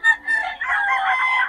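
A young gamecock stag of Kelso Golden Boy bloodline, a national banded bird at a Bocaue market, crows once up close: a brief clipped note, then a long wavering crow held for over a second, loud and alone.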